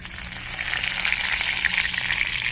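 Curry leaves dropped into hot oil already seasoned with cumin seeds sizzle and crackle loudly and steadily, close by, with no voices.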